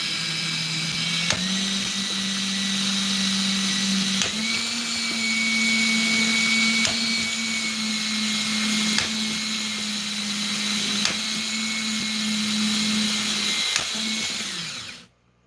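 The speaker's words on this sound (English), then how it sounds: "We're almost done with the drilling." A power drill runs steadily in a long, loud whine that briefly shifts pitch a few times and then winds down to silence at the end, with no talking.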